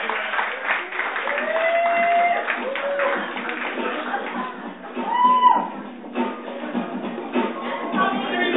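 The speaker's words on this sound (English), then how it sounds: "give us Lashai another round of applause and keep it going for Tomy Bewick" Audience clapping and cheering at a comedy show for comedian Tomy Bewick, steady applause from a full room lasting several seconds with some whoops.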